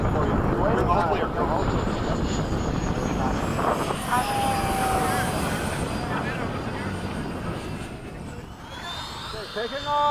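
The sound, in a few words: FMS 70mm F/A-18 RC jet taking off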